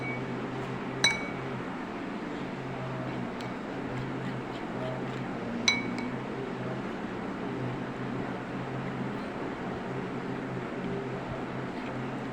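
A spoon mixes chili sauce into chicken filling in a bowl, giving two sharp clinks against the bowl several seconds apart over a steady, quiet background hum.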